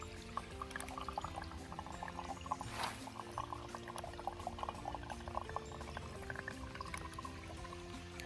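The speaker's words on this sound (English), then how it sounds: "Right now I'm filtering some water." Water pouring and trickling as it is squeezed through a Sawyer Squeeze filter into a container on an Appalachian Trail section hike in New York; a steady close liquid stream with small splashes throughout, no talking.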